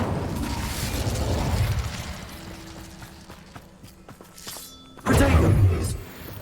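Incendio fire spell cast in Hogwarts Legacy, with a rushing fiery burst at the start, quieter game clatter and clicks in between, then a second loud whooshing blast near the end.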